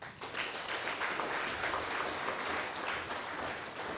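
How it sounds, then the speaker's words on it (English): A crowd claps for a poet at an International Day of Forestry event in a forest science department, a dense, even burst of applause filling the whole stretch with little talk. "let's clap to the gentleman who gave us the poem."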